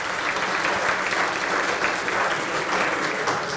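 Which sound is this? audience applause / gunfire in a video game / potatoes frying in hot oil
audience applause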